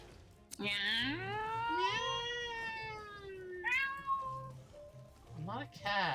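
A cat meows in the Spyro Reignited Trilogy video game, a series of long drawn-out, rising and falling meows close up and fairly quiet, separated by short pauses.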